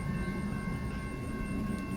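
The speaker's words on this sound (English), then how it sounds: "Another name for this train is the Illinois Zephyr." Amtrak Illinois Zephyr passenger train, also called the Carl Sandburg, led by an SC-44 Charger locomotive in Galesburg, giving a steady, loud rumble with sustained tonal whine and horn-like hums throughout, no voices.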